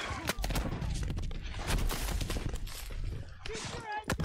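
Gunfire in the World War II shooter Call of Duty WWII, rapid cracks and bursts spread across a short stretch of battle noise, with a voice talking over it.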